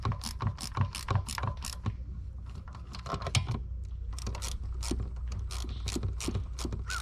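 Rapid ratchet clicking while bolts are snugged down on a Lycoming aircraft engine housing, bursts of fast close pawl ticks with short pauses between runs.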